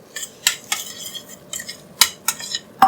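A spoon stirs half a teaspoon of spice into urad dal (black lentils) in a pan, giving a string of sharp metallic scrapes and clinks at irregular intervals, close and moderately loud, with no voices.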